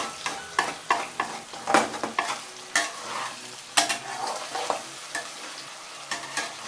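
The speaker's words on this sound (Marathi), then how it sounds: "1 ते 2 मिनिटं फक्त हलवायचे।" Chillies and potato for sabudana khichdi are stirred in a hot pan, with a spoon scraping in quick, uneven strokes over a soft, close sizzle and no voices.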